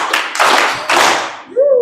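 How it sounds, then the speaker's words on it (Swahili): A congregation at a Christian marriage sermon gives three loud, close group claps with short gaps between, then a voice begins to speak. "Makofi matatu kwake."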